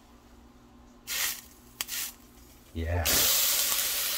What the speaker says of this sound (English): We will take steak and put it in the pan.